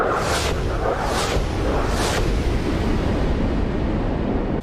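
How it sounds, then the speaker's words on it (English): Many 500-pound free-fall low-drag bombs go off in War Thunder: a dense, continuous roar of loud explosions with three sharper bursts near the start, heavy and sustained with no talking. "252 500-pound free-fall low-drag bombs."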